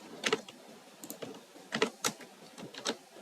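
Typing on a computer keyboard while editing attribute text in drawing software, a series of close, crisp keystrokes in uneven bursts with short pauses between them.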